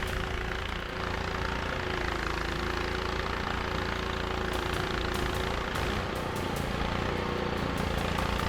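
A snow blower engine runs at full load while throwing heavy snow, a loud, close, continuous roar with a rough, churning texture and no pauses.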